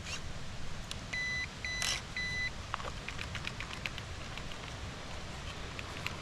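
Three short electronic beeps from an ARRMA Gorgon Grom RC monster truck sound in a quick, evenly spaced row over a low background hiss, followed by faint clicks.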